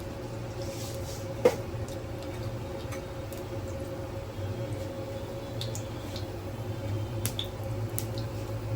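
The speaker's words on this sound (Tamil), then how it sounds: "கடுகு வந்து 1 ஸ்பூன் போட்டிருக்கேன்." Sparse little pops and crackles from mustard seeds spluttering in hot oil, irregular and fairly faint over a low, steady hum.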